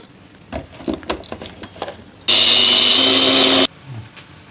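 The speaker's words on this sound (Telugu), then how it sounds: "ఈ పోపుని మిక్సీలో వేసేసుకుందామండి ధనియాల కారాన్ని దీన్ని పొడి పొడిగా చేసుకుని" A kitchen mixer grinder whirs loudly for just over a second, grinding tempering spices and coriander seeds into powder for a raw banana fry, with quieter kitchen clatter before and after.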